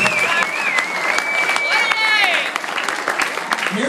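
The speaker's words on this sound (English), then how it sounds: "Round of applause." A wedding crowd breaks into a steady round of applause during a best man's toast, dense clapping with a few shrill whistles running over it, loud and close throughout.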